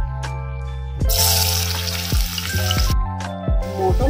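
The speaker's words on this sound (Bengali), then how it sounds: "পেঁয়াজটা এখন ভাজা হয়ে গেছে লাল করে" Sliced onions frying in oil in a pan for a Bengali mutton kofta, a steady close sizzle with repeated stirring scrapes, louder after the first second.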